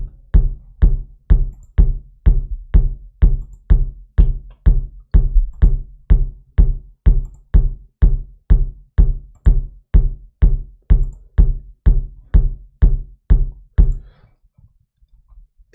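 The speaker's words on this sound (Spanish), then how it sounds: "Esta parte de este sonido en concreto de bombo es súper importante" A kick drum sample, trimmed down to its short click attack, plays in a steady loop of about thirty evenly spaced punchy hits with no voice, then stops abruptly near the end.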